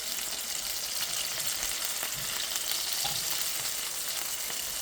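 Chicken saltimbocca fries and browns steadily in a hot pan, giving a continuous close sizzle with light crackles and pops and no talking.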